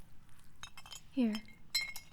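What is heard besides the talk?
glass clinking as a glass is offered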